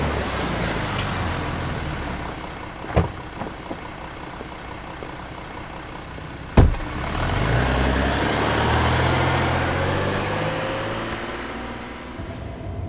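A car pulls up and settles into a low, steady idle, with a couple of sharp knocks or door thumps before a louder engine swell near the end.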